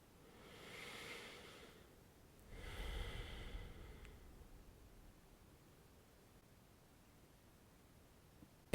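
Slow breathing during child's pose in a beginner vinyasa yoga session, two soft airy breaths around the first three seconds, close and quiet, fading into near silence.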